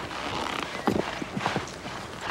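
A horse's hooves clip-clop in a brief run of close, distinct knocks against steady background noise.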